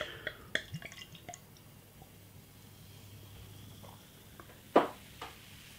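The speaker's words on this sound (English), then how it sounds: "Beer in the glass." Einstök Icelandic Pale Ale, a toffee-coloured ale, is poured into a glass, with scattered drips and small liquid splashes over a quiet background and a sharper splash near the end.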